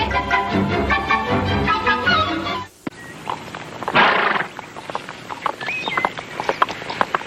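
Hooves clop and shuffle nearby amid rustling movement, with a louder snort or breathy burst partway through.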